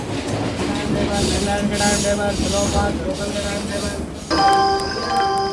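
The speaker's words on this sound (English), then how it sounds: "This train will stop here temporarily for 5 minutes." Rolling rumble of a Delhi Express train with rhythmic rail clatter, then a steady tonal hum and chime-like tones near the end, as if the carriage is settling to a halt.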